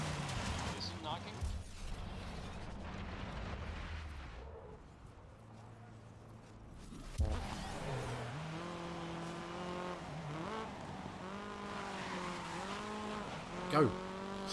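A race car in the game GRID roars as its engine climbs and drops in pitch through repeated gear changes, with tyre squeal and skidding mixed in and voices heard faintly.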